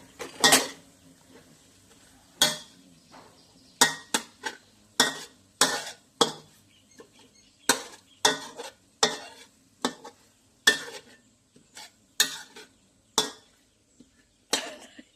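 A pot of Thai pad kra pao with shrimp is stirred and scraped with a utensil while the food sizzles faintly. Brisk metal scrapes repeat in an uneven rhythm throughout, close and clear, with no talk.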